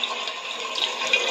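Water rushes steadily in a Roblox game, a broadband hissing drain sound that holds at an even level with no voices over it.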